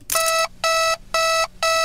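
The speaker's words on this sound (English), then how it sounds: "There's a new alarm in Cam 2." An alarm in the horror game Five Nights at Wario's: High Rollers rings in four evenly spaced, loud electronic bursts, each a bright buzzing tone separated by short gaps.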